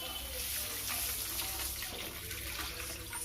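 Water pouring into a cooking pan while making samba rava upma, a steady soft splashing and trickling rush lasting a few seconds, fairly quiet.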